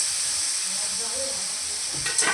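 Potatoes and green onions sizzle in oil in a kadai, a steady loud hiss that fills the whole moment, with faint voice-like murmurs underneath.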